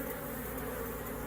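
Honeybees in a freshly installed nuc hive on a farm give a dense, continuous buzzing hum, close and steady throughout the short moment.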